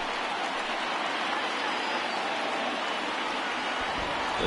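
Heavy rain falling on the field in a baseball video game, a dense, steady hiss of downpour with no breaks, fairly loud and uniform throughout.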